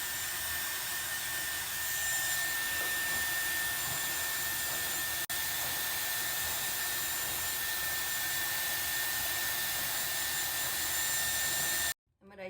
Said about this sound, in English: I'm just power drying it right now, just to get the majority of the moisture out.